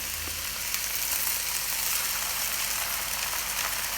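Chicken fried rice ingredients fry in a pan with a steady, even sizzle, a continuous close hiss of hot oil and no talking.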